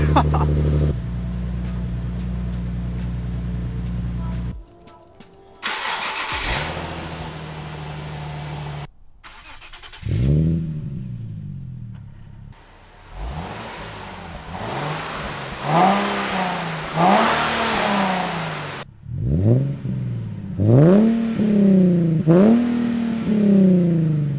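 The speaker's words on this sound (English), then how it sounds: "So, how does the ISR exhaust sound?" A Nissan 370Z with an ISR single-exit exhaust and Y-pipe idles loudly, then revs repeatedly in sharp bursts, each rise and fall growling close by with a raspy, aggressive tone.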